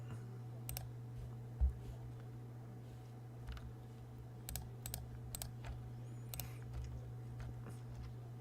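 A computer mouse and keyboard clicking while a virtual network is set up in the Azure portal, scattered sharp clicks spread across the stretch over a steady low electrical hum, close and fairly quiet with no talking.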